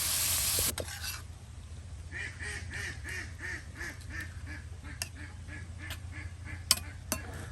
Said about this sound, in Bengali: পেঁপেগুলো দিয়ে একদম ভালো করে সেই মশলা চিংড়ি মাছের সাথে কিন্তু উলট পালট করে দেওয়া দেওয়া হলো